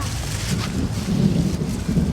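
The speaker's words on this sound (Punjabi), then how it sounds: "ਮੀਂਹ ਤਾਂ ਆ ਗਿਆ" Steady rain hisses and patters all around, with a low rumble underneath. It is fairly loud, and no one speaks.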